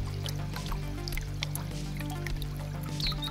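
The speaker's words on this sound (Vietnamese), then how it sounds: "Rót thành dòng nhỏ để nước được lọc" Water is poured in a thin stream through a layered sand-and-charcoal filter outdoors, a soft continuous trickle with light drips over a steady low hum.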